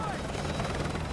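Helicopter rotor noise from the Call of Duty Modern Warfare 2 Remastered video game, a steady dense whirring drone filling the short moment at moderate level.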